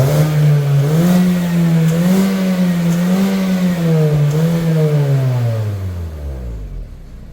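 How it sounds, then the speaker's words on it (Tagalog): A 2024 Mazda 3 on its stock exhaust revving up and holding a steady, droning engine note, loud and close, with slight wavering before the pitch sinks as the revs fall away. "This is on stock exhaust. We're going to rev"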